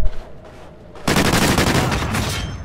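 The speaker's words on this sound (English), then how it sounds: "I'm getting shot at." Rapid automatic gunfire in a multiplayer shooter on the Whiteout map, a sustained loud burst of shots that cuts in abruptly after a quieter stretch and rattles on to the end.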